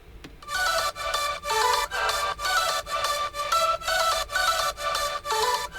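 Bright synth lead melody with pitch bends, its notes gliding and sliding between pitches within evenly spaced phrases separated by short regular gaps, clear and alone without voices.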